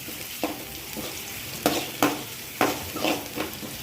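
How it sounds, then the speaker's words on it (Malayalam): Chopped onions sizzle softly in a pan while a spoon stirs them, making a series of irregular scraping strokes over the quiet frying, close and fairly faint, with no speech. "ഇളക്കുക."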